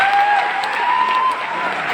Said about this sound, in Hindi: मैं चाहता हूं आप अपने लिए एक बार जोरदार ताली बजाइए।